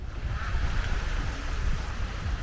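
Ocean waves wash steadily at the water's edge on Airlie Beach, a continuous rushing surf with wind noise buffeting the microphone, fairly loud and close, with no voices.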